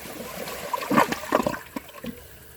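A 2015 Kohler Cimarron one-piece toilet flushes a grocery bag, a short, close rush of gurgling water with a few splashy surges that taper into a trickle.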